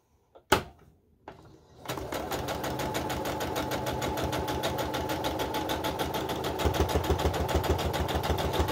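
A sewing machine joins quilt pieces for a bow tie quilt, starting after a sharp click and brief hum, then running in a steady, close, rhythmic chatter that grows slightly louder toward the end.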